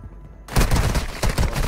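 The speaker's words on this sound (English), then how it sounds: "Shots!" Gunfire in Call of Duty Warzone Mobile bursts in suddenly after a brief quiet moment, a loud rapid string of shots with booming low impacts continuing to the end.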